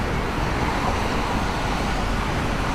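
Truck bouncing along a busy road on a walking commute across the Williamsburg Bridge between Brooklyn and Manhattan, a loud continuous roar of traffic and rattling heard up close with no pauses.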